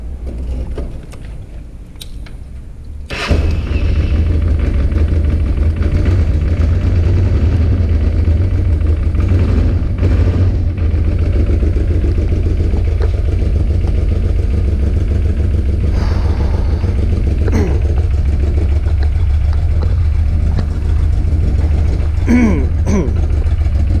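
A 1995 Honda Africa Twin motorcycle starts after a quiet moment and settles into a loud, steady, slightly uneven idle while running rich outdoors, with a faint clatter near the end.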